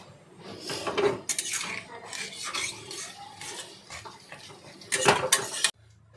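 A lid goes onto a cooking pot of banana stem, fish head and moong dal with water added, giving metallic clanks and scraping, a loud clattering burst near the start and another near the end, close by.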